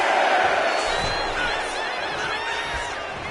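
Arena crowd in the WWE 2K25 wrestling game roaring and cheering at a match in Lowell, Massachusetts, a loud sustained wall of voices with whoops rising and falling, under a commentator's talk.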